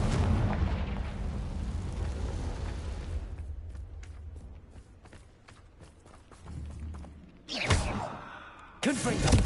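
Confringo spell explosions in the Hogwarts Legacy video game, a rumbling blast that fades into crackling debris, followed by two more sharp bursts near the end.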